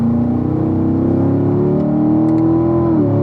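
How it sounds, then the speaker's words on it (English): A car accelerating hard on a race track, its engine pitch rising steadily in one long pull, loud and close from the cockpit, with a brief dip as it eases near the end. "Keep accelerating here through the kink, Steve."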